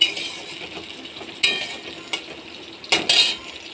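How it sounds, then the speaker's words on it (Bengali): Chopped onions sizzling in a frying pan while a spatula stirs them, with a steady hiss broken by a few sharp scraping and clinking strokes against the pan, close and alone with no talk. "পেঁয়াজটা ভাজা ভাজা হয়ে যায় পেঁয়াজটা লাল লাল হয়ে গেলে সমস্ত মশলা দেবো"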